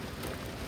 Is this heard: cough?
no